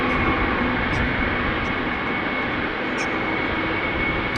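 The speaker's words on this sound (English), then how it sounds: "another airplane coming this way is a 777-200 to Bangalore, which just has begun its taxi." A Boeing 777-200 taxiing at Amsterdam Schiphol Airport gives off a steady, loud jet engine roar that holds evenly throughout, with faint faraway ticks above it.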